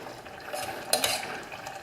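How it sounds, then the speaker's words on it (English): Potatoes and fenugreek leaves stirred in a pan for Indian aloo methi, giving soft scraping and light clinks of a spoon against the pan over faint sizzling, with a brief louder scrape partway through. "I'm going to give it a stir."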